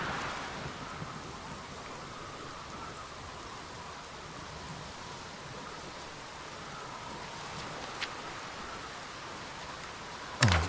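Steady rain with gusting storm wind in The Berlin Apartment video game, a continuous wash of downpour holding even throughout, a brief sharp crack near the end.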